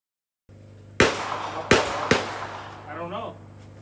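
Three sharp, loud CZ 457 rifle shots crack in fairly quick succession at an outdoor pistol match, each followed by a short decay. A voice speaks briefly afterward.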